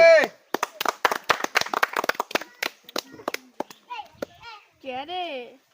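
Quick, uneven hand claps ring out in a dense burst at a lychee-eating contest game, then thin out as a voice and other voices take over near the end.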